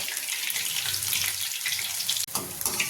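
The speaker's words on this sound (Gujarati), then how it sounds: "આપણે શેરને આવી રીતે તળી લેવાનું છે" Raw banana sev frying in hot oil over a medium flame, a dense, bright, hissing sizzle heard close and steady, with a brief dropout near the end and no talk.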